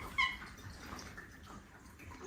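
A pet cat gives a single short, faint meow near the start against a low background hush, with no other clear sounds following.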